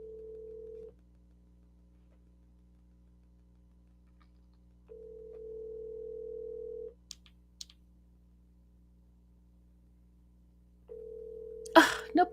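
Outgoing phone call ringing unanswered: three long electronic ring tones, each about two seconds, separated by long silent gaps, with faint clicks near the end and a clattering noise over the last ring.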